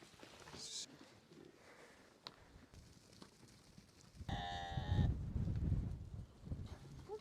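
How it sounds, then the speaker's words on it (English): Sheep and goats penned together for milking by Mongolian nomads, giving a loud burst of bleating mid-clip over scuffling movement, with quieter rustling and shuffling before it. "Okay, now all the goats and sheep are in the pen."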